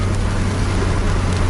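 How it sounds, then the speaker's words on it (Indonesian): Rain and road noise fill the inside of a moving bus on a wet highway, a dense, steady hiss and rumble with no pauses and no speech. "Kondisi trek masih hujan juga."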